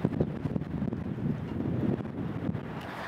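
Steady gusty wind buffets the microphone, a dense low rumble that rises and falls without pause, with no voices.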